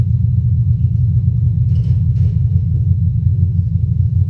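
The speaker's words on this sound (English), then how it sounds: "So here's the sound of the sun." A sonification of the Sun's oscillations: a deep, steady low rumble throbs continuously, dense and droning with no speech, like a slowed-down resonant hum.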